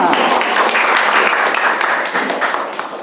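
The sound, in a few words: classroom applause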